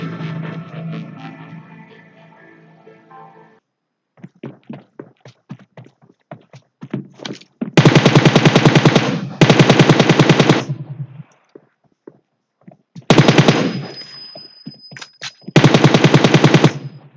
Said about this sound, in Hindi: फ़ोन में अगर आप गेम खेलते हैं तो ऑडियो काफ़ी लो और अनइवन आता है। साथ में जो डिस्टॉर्शन है